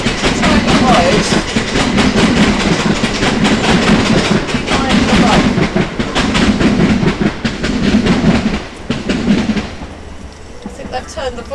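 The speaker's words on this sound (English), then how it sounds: "I think they've turned the volume up of the trains." Trains rolling past close by, a loud continuous rumble with rhythmic clickety-clack from the wheels, fading slightly toward the end; voices are faintly present.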